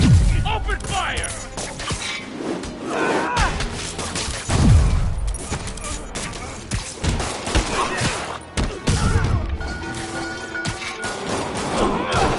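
Rapid bursts of cartoon gunfire and crashing impacts in a Spider-Man animated battle, loud and continuous, mixed with voices and action effects.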